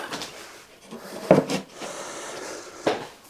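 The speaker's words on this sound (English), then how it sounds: "That's the drawer." A wooden drawer slides into a cabinet, with two distinct knocking thuds as it runs in and seats, the second softer and later, over a quiet room.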